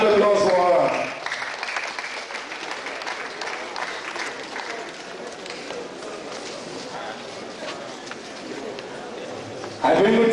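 Seminar audience clapping at a 2015 university event in Lagos, a dense, steady wash of applause lasting several seconds, loud at first, then slightly softer, with a voice over the start and a burst of talk at the end.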